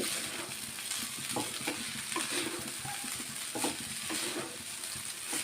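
Vermicelli being stirred with masala in a hot pan, a continuous sizzle with repeated scraping strokes of the spoon at close range, no talking.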